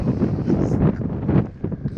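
Strong wind buffets the microphone in darkness before dawn on Mount Fuji, a loud, gusty low roar that swells and dips in uneven surges throughout.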